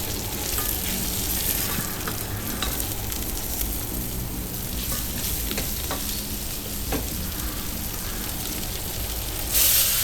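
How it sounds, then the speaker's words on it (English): Black pepper, coriander, parsley, salt and rosemary sizzle in a pot for stewed beef, a steady close crackle with occasional stirring scrapes and no talk. "I like to fry my spices a bit as well."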